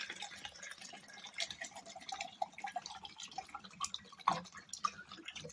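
Cow urine being poured into a container, about five litres, for a ginger, garlic and green chilli farm spray, with a steady trickling, dripping stream that rises and falls in bursts throughout.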